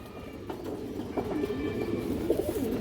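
A Bagha pigeon coos in a few soft, throaty phrases close by, over a low steady background hum.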